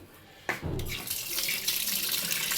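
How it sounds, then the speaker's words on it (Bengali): Tap water runs steadily into a sink while mutton is washed, a close, continuous splashing stream that starts abruptly and carries on alone. "এখন মা ধো, মাংসটা ধুচ্ছিলে ধো।"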